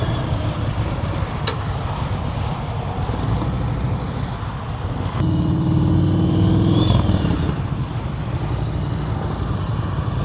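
A motorcycle engine idles and putters at low speed during slow-speed riding practice in North Carolina, steady and fairly close, with a brief rise in level midway before settling again.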